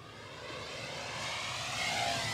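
A Horizon Hobby Timber X V2 RC airplane flies overhead, its electric motor giving a steady airy whine that slowly grows louder over a couple of seconds, heard alone without speech.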